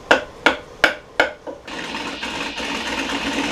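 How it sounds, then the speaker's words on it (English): A few sharp knocks come first, then a wood-turning scraper cuts into a black walnut salad bowl on the lathe with a continuous rough scraping hiss, close and moderately loud, with no talk. "I used a scraper to clean up the stump"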